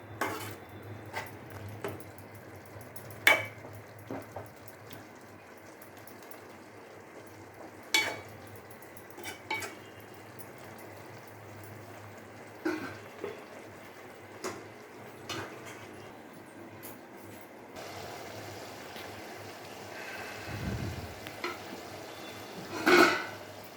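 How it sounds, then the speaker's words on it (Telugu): A broad bean and tomato curry is stirred in a pan, with a spoon scraping and clinking against the metal in scattered strokes over a faint sizzle. The sounds are close and fairly quiet, and no one speaks. "5 నిమిషాలు అయింది కదా, కలుపుకుంటున్నాం."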